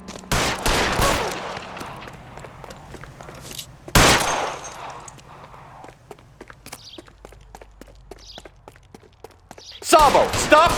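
Gunshots ring out in L.A. Noire, a burst of loud rapid shots at the start, a single heavy blast a few seconds in, then scattered footsteps and thuds before another flurry at the end, with voices in between.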